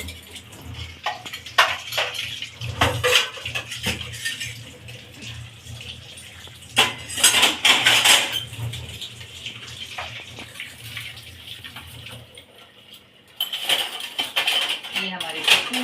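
Spoons, ladles and utensils clatter in irregular bursts during household dishwashing, mixed with running water from a tap, with someone talking intermittently over the clinking.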